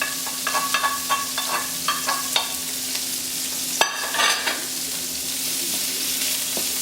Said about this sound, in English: Toss that in there. And saute that for a little bit.